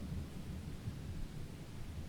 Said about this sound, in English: now I could occasionally hear the distant mutter of thunder